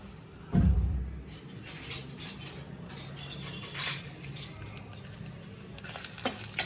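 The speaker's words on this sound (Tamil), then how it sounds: "நல்லா வதக்கிடுவோம். இந்த சீரகம் வதக்கிறோம்." Cumin seeds and dried chillies sautéing in a pan while a spoon stirs them. Metallic clinks and scrapes stand out, with a sharp knock at the start and a faint sizzle underneath.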